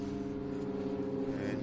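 Race cars running behind the Hyundai safety car at The Bend circuit, a steady, distant droning engine note with a hint of a passing car, briefly and faintly.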